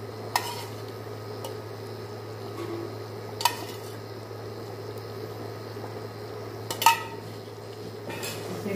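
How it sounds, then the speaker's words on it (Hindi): Cooking sounds from a pot of mutton qorma as desi ghee is added: a soft steady sizzle and simmer under a low hum, broken by three sharp metallic clinks of a spoon against the pot. "अब मैं इसमें 2 चम्मच देसी घी इसी टाइम पर डालूंगी।"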